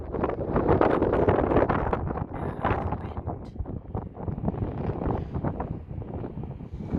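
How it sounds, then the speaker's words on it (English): Wind gusts buffet the microphone on a balcony, a steady broadband roar that swells and eases throughout with no clear gaps. "Wow, it's a bit breezy as well."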